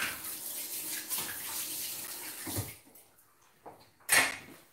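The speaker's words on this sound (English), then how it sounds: "Let me wash my hands." Hands washed under a running kitchen tap, a steady rush of water for a couple of seconds, then the flow stops and a few short splashes and clatters follow, including a louder one near the end.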